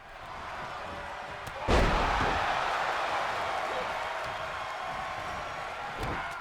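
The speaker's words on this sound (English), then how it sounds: "Walter slamming those big chunky fists across the chest of Okada." Heavy fist chops slam across a wrestler's chest in the WWE 2K22 video game, one sharp loud impact over a steady roaring arena crowd.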